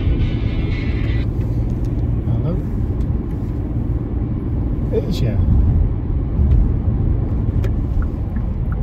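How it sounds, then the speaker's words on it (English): A low, steady rumble of traffic and engine noise fills the cabin of a parked car, with a person talking over it throughout. "I'm sat in a car, so it might be a bit noisy background"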